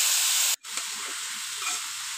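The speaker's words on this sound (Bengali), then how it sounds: "এখন আমি উস্তাটা আর আলুটা তেলের মধ্যে একটু ভালোভাবে ভেজে নিব" Bitter gourd and potato pieces fry in hot oil with a continuous bright sizzle, briefly cut by a short gap, then resuming steadily with faint stirring clatter.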